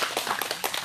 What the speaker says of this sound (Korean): 어려운 자리에 함께 해주신 부모님께 감사의 박수 다시 한번